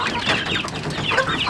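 Chickens eating garden scraps cluck busily and close by in short overlapping calls, with no talking.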